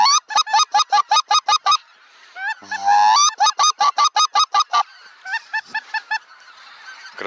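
A flock of geese honks loudly and close by during a spring goose hunt, quick repeated calls, one brief louder flurry of honking in the middle, then steadier calls continuing.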